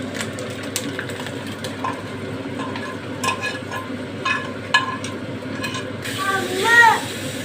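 Fried tempering poured into pesara pappucharu, a moong dal lentil soup, giving a steady stir-and-sizzle texture with occasional clinks of a spoon, close and moderately loud, a brief sharper hiss rising near the end.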